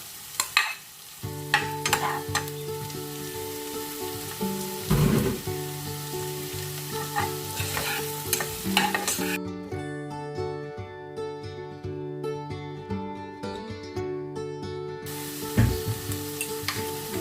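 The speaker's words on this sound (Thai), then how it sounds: "แล้วก็จะเอาหอมแขกนะคะสับลงไปผัด แล้วหน่อยก็จะเอาไส้กรอกมือผัดนะคะ" Chopped onion and chicken sausage stir-fry in a pan for a creamy pasta sauce, a steady sizzle broken by repeated scraping stirs and clatters of the utensil, close and fairly loud, with a sustained tonal hum running throughout.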